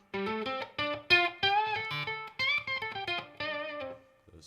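An electric guitar through a Roger Mayer Classic Octavia octave distortion pedal plays a lead phrase of quick, separated notes with a gritty, doubled tone, loud and close, with short gaps between runs.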